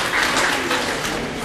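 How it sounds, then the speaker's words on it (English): A classroom group clapping for a student, a short, close burst of dense applause from many hands. "Give him a big clap."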